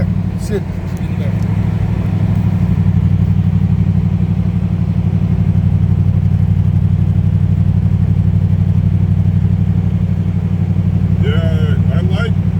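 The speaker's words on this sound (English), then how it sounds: "I like straight pipes on this car, but it sounds great" A Ford Crown Victoria's engine with straight-pipe exhaust drones loud, steady, low and rumbling throughout, with a raspy exhaust note; a few brief chirps and clatters near the start and end.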